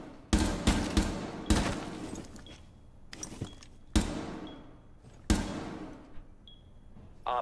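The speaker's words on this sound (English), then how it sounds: "You wanna ping the side you wanna make the bullet hole on, and you just wanna shoot." Gunfire in Rainbow Six Siege, fired to make a bullet hole on the Kafe Bar map, comes as a few loud, sharp shots spaced irregularly, some in quick pairs, with quieter thumps and a faint tone between them.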